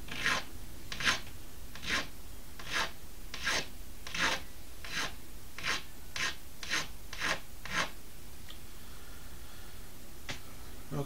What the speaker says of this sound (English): So I'm just gonna go back to this triangular file